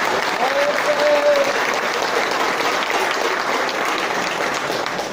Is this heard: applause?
yes